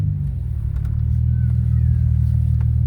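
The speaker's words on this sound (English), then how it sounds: "so let's drive the car and see what's going on." Car with a hot transmission and P1716 speed sensor fault being driven, giving a loud, steady low engine rumble that swells slightly as it accelerates, with faint road noise above it.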